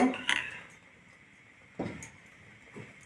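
A spoon stirs moong dal in a pot for payasam, giving a loud metallic clink at the start and two short scraping strokes against the pot later, close up with quiet gaps between.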